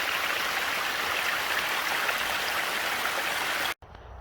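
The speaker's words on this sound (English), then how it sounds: "you can hear the water rushing down" A stream on a winter hike, its water rushing down in a steady broadband wash, close and loud, ending in a sudden cutoff near the end; no one speaks.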